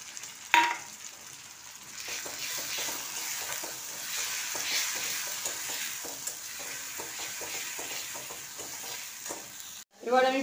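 Spice paste sizzling with lightly fried onions in a pan, a steady soft fry with rhythmic stirring scrapes and a sharper clatter at the start and end.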